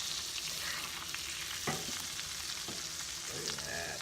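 A thick filet mignon sizzles steadily in a pan with sauce, a continuous close frying hiss broken by a few brief scrapes as the meat is turned.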